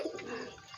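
A pigeon on a pigeon farm gives a short, low, throaty coo close by, faint and brief with no voices over it.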